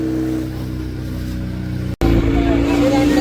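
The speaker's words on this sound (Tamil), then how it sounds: "ஸ்ரீலங்கா நேவின்ற போட் வருது பாருங்க பாதுகாப்புக்கு" A Sri Lanka Navy patrol speedboat's engine drones steadily and loud, with a brief dropout midway before the motor roars back stronger, its tone harsher as it passes close.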